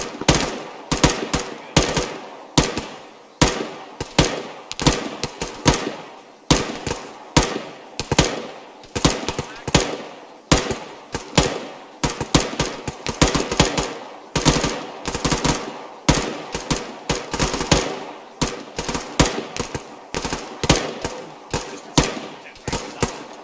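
Rapid bursts of automatic rifle and machine-gun fire from a squad laying down a base of fire in Arma 3, loud, close and sustained with short pauses between volleys, some faint voices underneath.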